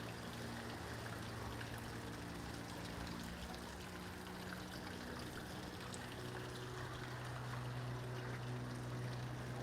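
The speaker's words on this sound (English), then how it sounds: "see the waterfall" A waterfall in a garden in Krakow's Podgorze district gives a steady, soft rushing and splashing, continuous and fairly faint, with no voices.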